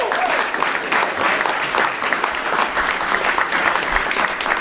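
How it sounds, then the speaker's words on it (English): Conference audience at CPAC 2020 applauding a panel of international leaders, sustained dense clapping from a large crowd, steady and fairly loud for several seconds. "Let's get a round of applause."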